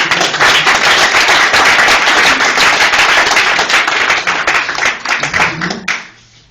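A church congregation applauds Jesus in loud, dense, sustained clapping that fills the room, then thins out and fades to near quiet at the very end.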